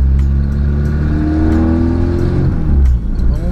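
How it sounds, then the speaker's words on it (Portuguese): A Volkswagen Gol engine revs hard and holds high RPM, its steady loud drone climbing in pitch with some exhaust resonance, then dropping briefly near the end before picking up again. "Você dá uns aceleros mais fortes."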